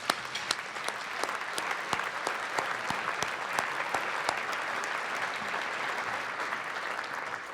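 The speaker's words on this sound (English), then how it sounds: "So can you give them a round of applause this evening?" Sustained audience applause fills an evening awards presentation, a dense steady wash of clapping with sharp individual claps standing out, holding at an even level throughout with no speech over it.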